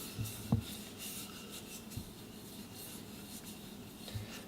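A hand rubbing sealant onto the outside of a tube, soft faint rubbing strokes with a few low thumps against a quiet background.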